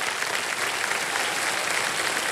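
A studio audience claps steadily on the set of the quiz show KBC, a dense, even wash of applause from a full crowd that holds constant throughout, with no talk over it.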